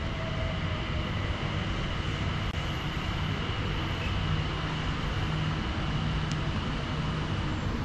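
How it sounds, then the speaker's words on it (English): An airport terminal train arriving at Dubai International Airport, with a steady, low rumbling hum and faint rail noise that hold constant and fairly quiet, plus a couple of faint clicks. "Train is arriving now."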